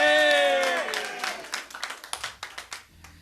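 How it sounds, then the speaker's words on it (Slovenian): Scattered, distinct handclaps from a live concert crowd at a radio show follow a drawn-out voice, then thin out toward the end. "Ja, ki imamo tudi mi en velik aplavz za publiko"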